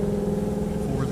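Engine of a Ram TRX truck at an airport drag race, a steady loud drone that holds throughout, with no break.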